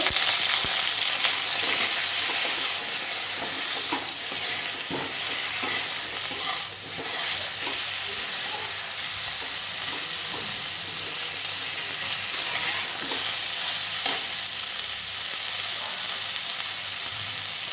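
Cauliflower with a little turmeric fries in a pan, giving a steady, close sizzle throughout, with scraping and clicking stirring strokes scattered over it and no talking.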